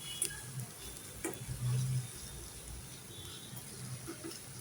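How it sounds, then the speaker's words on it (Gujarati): Aloo methi curry with fresh coriander being stirred in a pan, a soft scraping stir with a brief faint sizzle, quiet and close, no voices. "ઉપરથી આપણે થોડા ધાણા એડ કરી દઈશું અને હલાવી લઈશું"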